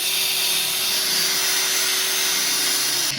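A TANZU 4-inch cordless brushless angle grinder runs steadily after being switched on and locked, a loud, continuous high whine with a constant tone and no break across the few seconds.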